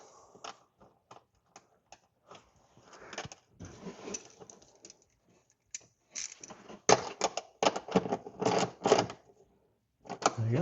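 Metallic clicks and ratcheting bursts from a nut being tightened with washers and a lock washer onto a golf cart lithium battery terminal, sparse taps at first, then a denser run of loud close clatter near the end.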